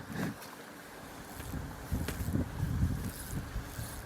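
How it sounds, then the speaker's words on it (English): Wind blows by a river during fly fishing, a low rumbling gusty rush buffeting the microphone, rising and falling with stronger gusts in the second half. "I've got a bit of a downstream wind blowing now"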